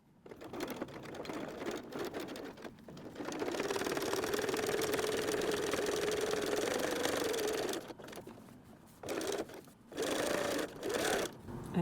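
A sewing machine stitches closed the small turning opening in a messenger bag's lining, running in a steady high whirring burst for several seconds before stopping, then starting again in short stuttering runs; close and fairly quiet.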